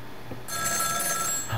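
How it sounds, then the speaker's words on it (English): Telephone ringing in the video game Ghost Trick, a bright electronic ring that starts about a third of the way in and repeats steadily at moderate loudness, with no talking over it. "The phone, we need to get to the phone."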